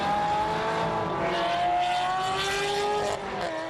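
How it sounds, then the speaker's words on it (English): Honda NSX Type R and GT3 race cars accelerate hard off the line at a Fuji race start, a loud, continuous roar of engines with rising, overlapping whines as the pack pulls away. "NSX Type R dashes off, and the GT3 showing some power right from the start."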